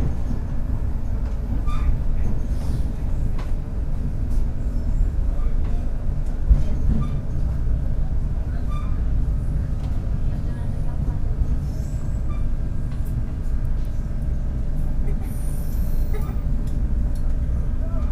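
The Argo Cheribon passenger train pulls into Tegal station with a steady low rumble of wheels and carriage noise, heard from inside the coach, with faint clicks and a light squeal over the continuous drone.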